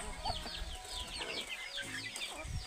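Several chickens cluck and chatter close by in a lively, overlapping barnyard mix, with short bursts of calls repeating throughout.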